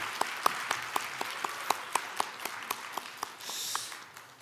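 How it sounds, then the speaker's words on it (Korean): Applause from a Korean church congregation during a Sunday worship service, moderately quiet with distinct individual claps standing out over a softer patter of many hands. "다시 한번 박수 부탁드립니다."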